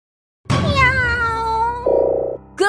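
A cat gives a long, loud, drawn-out meow close by, gliding down in pitch, followed by a short buzzing tone and the start of another sound, with no talk.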